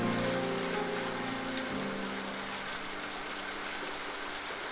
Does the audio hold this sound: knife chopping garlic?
no